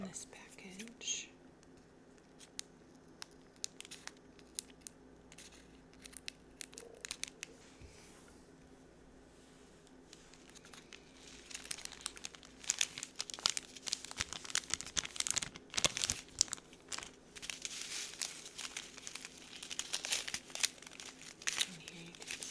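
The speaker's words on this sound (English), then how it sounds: "I'm going to cut open this package" A diamond art package is cut open with scissors and crinkled, sharp snips and soft plastic rustling in a quiet room, with whispered talking in between.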